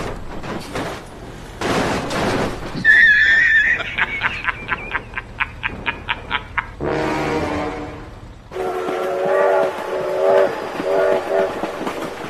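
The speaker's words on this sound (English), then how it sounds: "Oh my God, train!" A train rolls over a wooden bridge with loud rumbling, bursts of rapid rhythmic clacking and a sustained horn blast, all close and dominant, with brief noisy shouts early on.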